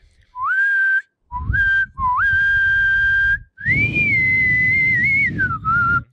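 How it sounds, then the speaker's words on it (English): A person whistles loudly and clearly in a series of sustained, bright notes with short gaps between phrases, rising and sliding in pitch, close to the listener with no other sound around. "How loud can you whistle?"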